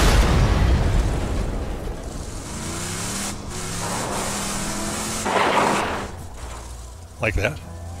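Rocket explosions in the video game Borderlands 2: a booming burst around the middle and a sharper, louder blast near the end, rising over a steady rumble of game noise.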